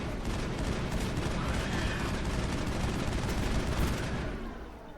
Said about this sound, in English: the assault rifle is not incredibly effective against these little buggers